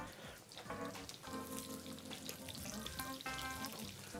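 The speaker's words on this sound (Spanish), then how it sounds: "Le ponemos el pimiento en tiras, el pimiento choricero" Green pepper strips, choricero pepper and garlic sizzling in hot oil in a pan for a refrito, a steady close crackle with the hiss of frying throughout, accompanied by faint tonal background sound.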